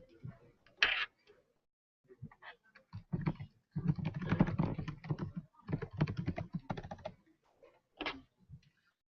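Computer keyboard keys tapped in irregular bursts during an HTML and CSS coding workshop, close and moderately loud, with faint clicks between clusters of rapid typing.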